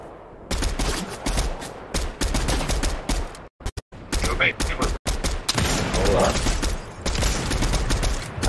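Dense gunfire rattles through a battle royale video game match, long bursts of rapid automatic shots with a few brief gaps, loud and close.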